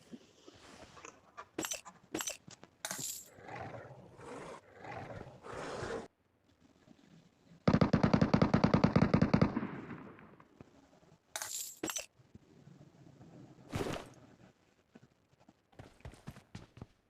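Gunfire in a PUBG Mobile Metro Royale match: a long, dense loud burst of automatic shots in the middle, surrounded by scattered sharp single cracks and clinking clatter, fairly close.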